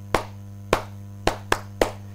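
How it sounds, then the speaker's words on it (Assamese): Five sharp, separate hand claps land in an uneven rhythm, each one a crisp close slap that dies away quickly over a low steady hum. "এই হাত চাপৰি এই কাৰণে বজোৱা হৈছে"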